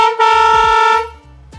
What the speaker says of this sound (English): It's got a clown horn on it.